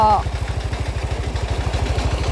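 An engine-driven water suction pump, running on a vehicle-type engine, chugs beside a flooded rice field, a steady rapid low thumping that holds close and loud throughout.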